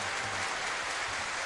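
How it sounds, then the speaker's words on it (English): Crowd applause at a sports talk show event, a steady dense wash of clapping that fills the whole moment without a break. "That definitely gets a round of applause."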